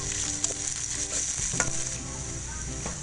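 Long beans (sitaw) and carrots hit hot oil in a pan, a bright steady sizzle punctuated by several quick stirring scrapes and clinks over three seconds, no voices.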